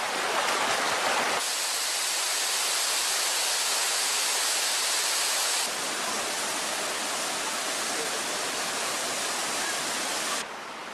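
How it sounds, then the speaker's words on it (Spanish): Hot spring waterfall in Jordan, water at about 60 degrees spilling down rocky cascades, gives a steady loud roaring rush of falling water that fills the whole scene, close and unbroken with a brief louder burst at the start. "A 60 grados caen de las cascadas."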